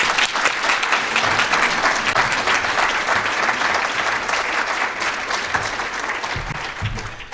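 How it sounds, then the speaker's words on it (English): Sustained audience applause at an award ceremony honoring a Broader Impacts Champion, dense and steady clapping from a crowd for about seven seconds, tapering slightly at the end. "Let's give her a round of applause."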